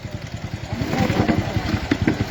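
A motorcycle idles steadily close by as it is being parked, a low, even chugging with a light mechanical clatter.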